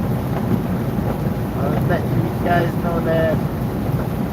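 Rain and wind roar steadily over a car driving into a thunderstorm from Valdosta, Georgia, as a loud continuous wash, with someone talking over it.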